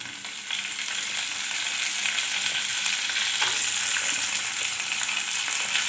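Curry leaves hit hot oil in a pan for a sukat (dried fish) recipe, producing a loud, dense, continuous sizzle that grows slightly stronger and stays close and steady, with no one speaking.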